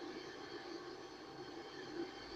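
A train rolling past in GTA 5 Online, a low steady rumble of rail wagons with a faint tonal hum, distant and quiet, unbroken for the whole stretch with no speech.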